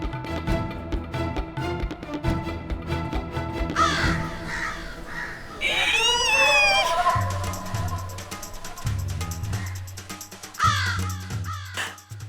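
Crow cawing in a household scene from a Hindi TV serial, harsh repeated caws over a music score with dramatic stings, fairly loud and close.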